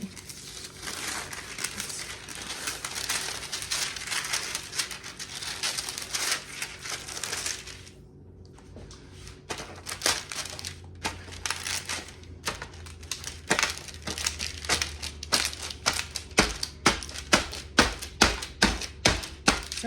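Almonds are crushed in a hot pan, making dense crunching and crinkling at first, a brief lull, then sharper repeated cracks and taps growing louder near the end, with no talk.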